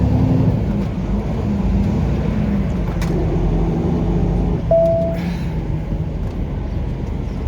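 A small car's engine drones steadily while driving on a Tennessee road, a continuous close hum with a slight rise as it accelerates and a brief high tone partway through.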